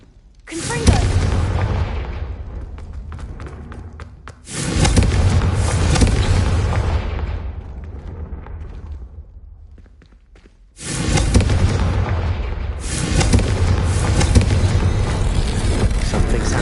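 A Confringo blasting spell from a Harry Potter video game produces two loud, booming explosions, each a long rumbling roar that fades gradually, separated by a quieter gap.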